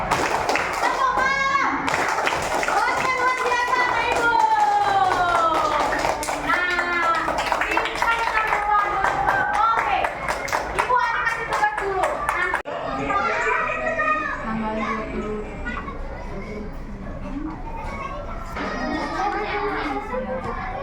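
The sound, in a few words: children clapping in a rhythmic clapping game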